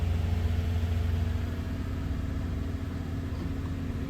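Car engine revved and held at a steady 1,000 rpm during a tailpipe emissions test, running lean, a constant low droning hum with an even tone and no talk.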